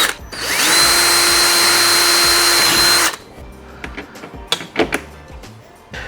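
A power drill bores holes into a box for a portable off-grid solar power station, one long loud steady whine spinning up and running for about three seconds, followed by quieter clicks and handling knocks.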